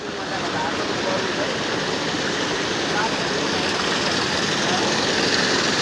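A water-driven dhiki, a traditional Nepali wooden rice pounder fed by a diverted stream, runs with a steady, loud rush of flowing water and a continuous low mechanical rumble, without distinct breaks.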